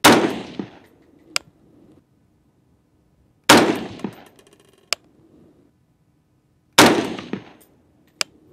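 Three loud, sharp rifle shots from a 224 Valkyrie fired at a 100-yard target on a range, spaced a few seconds apart, each with a quick decaying report and a faint metallic clink after.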